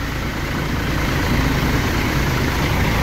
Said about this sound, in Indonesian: Tuh mesin masih sangat terawat.